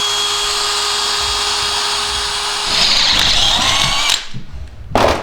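A small bit bores with a power drill, a high steady whine that shifts pitch as it bites into the material, then stops, followed by a short final burst.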